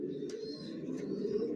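Racing pigeons in a home loft give faint, soft cooing calls with a couple of brief higher chirps over a steady low background.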